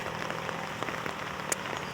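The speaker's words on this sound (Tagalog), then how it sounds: "Ang lakas ng ulan." Heavy rain pours steadily on a walk to the market, a dense continuous hiss of drops hitting surfaces close around, with a few sharper splashes standing out; no one speaks.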